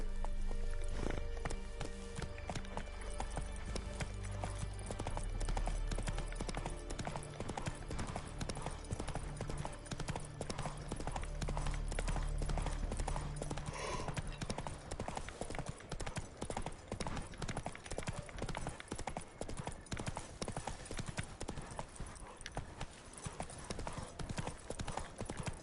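A horse gallops in The Witcher 3 video game, with rapid rhythmic hoofbeats pounding steadily throughout at moderate loudness, alone without speech.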